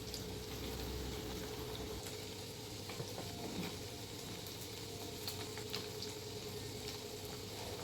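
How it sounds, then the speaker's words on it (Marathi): Potato paneer starter pieces frying in hot oil over high gas, a steady, close sizzle and bubbling that runs unbroken throughout with faint stirring and no talk. "फास्ट गॅसवरतीच आपल्याला दोन मिनटं तळून घ्यायचं आहे"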